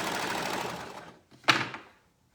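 A sewing machine runs steadily for about a second while sewing a cuff, then stops. A sharp mechanical clack follows and fades quickly into silence, with no talking.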